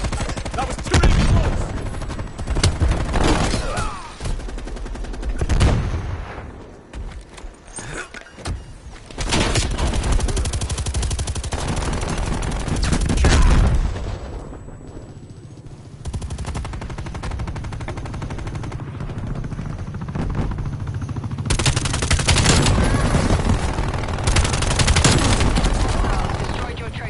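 Call of Duty gunfire crackles in repeated automatic bursts, loud and close, separated by brief lulls, while a player's voice is heard at times among the game sounds.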